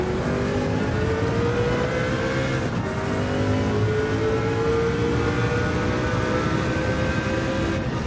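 A race car engine in a racing video game on the Catalunya circuit drones loudly and continuously, its pitch rising and shifting through gears in a steady high-revving roar.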